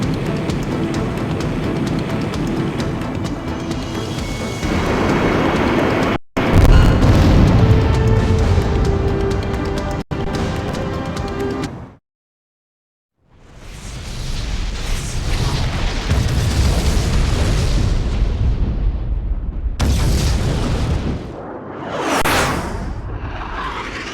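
An airborne fortress's giant cannon fires and explodes in Ace Combat X, with a jet whooshing, deep booms, a sudden silent gap, then a long roaring blast and rushing wind.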